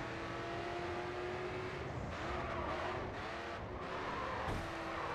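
A Dodge Charger muscle car engine roars in a PS3 racing video game, a steady, quiet drone with some shifting intensity and tire noise, no talking.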